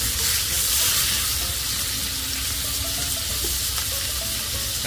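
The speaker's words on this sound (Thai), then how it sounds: "เราก็จะนำหมึกนะครับใส่ลงไปเลย ก็จะผัดคลุกเคล้าไปเรื่อยๆนะครับ" Squid stir-frying in a pan makes a continuous, moderately loud sizzle with a watery hiss, heard close and without voices.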